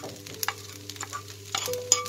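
Vegetable and vermicelli stir-fry with small omelette pieces being stirred in a pan, a few soft scrapes and clicks of the utensil over a faint low hum, quiet and close with no talking.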